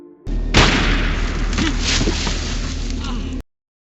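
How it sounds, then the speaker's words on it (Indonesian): A single sharp gunshot cracks out in a forest, then rolls into a long booming echo over a steady low rumble, with faint voices underneath. "Tiba-tiba suara tembakan menggema dari dalam hutan"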